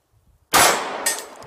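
Single sharp gunshot at a shooting practice range, a loud abrupt crack followed by a short decaying ring, with a faint second clang shortly after.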